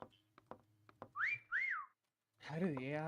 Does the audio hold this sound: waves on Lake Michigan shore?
no